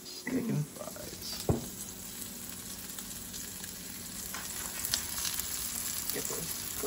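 Fries cook in a pan with a continuous close hiss of frying, broken by a few soft knocks and scraping clinks of utensils, steady in loudness across the clip.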